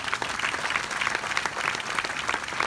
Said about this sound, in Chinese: 我们应该给他一个掌声。